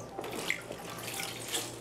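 A kitchen tap runs steadily into a sink while food is rinsed for Hong Kong style borscht, a soft, even stream of water lasting under two seconds with no talking.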